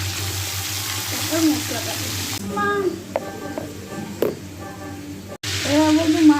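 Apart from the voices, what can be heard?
potatoes and cauliflower frying in a pan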